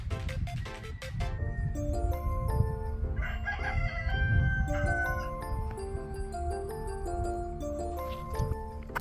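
A curly-feathered rooster crows loudly and at length, its strained, wavering call continuing over a busy background of other bird and farmyard sounds.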